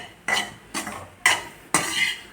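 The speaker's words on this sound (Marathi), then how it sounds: "सारखं याला असं चम्मच देऊन भाजत राहायचं आहे" Gram flour roasting in a pan for village-style besan laddoos, scraped and stirred with a spoon in four distinct gritty strokes, each a short rasping sweep, close and clear with no talk.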